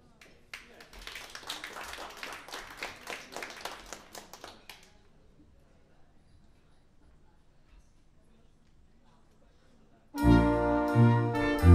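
Concert audience at a brass band performance clapping for about five seconds, moderately loud with a lively patter, then near silence before the brass band starts playing loudly.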